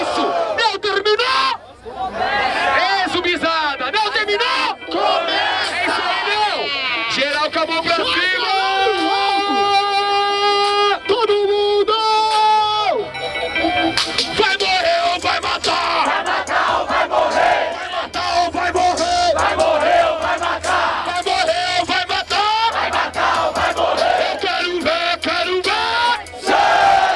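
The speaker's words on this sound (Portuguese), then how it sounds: "Barulho para as rimas do Neo." At the grand final of a rap battle in Barueri, São Paulo, a large crowd roars, yells and chants nonstop at full volume, with voices rising together into sustained shouts.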